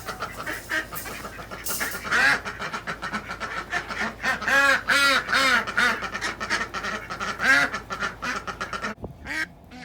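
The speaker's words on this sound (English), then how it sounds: "This sweet little broody duck." A broody duck quacks repeatedly at close range, a run of loud rhythmic quacks in bursts, with no talking.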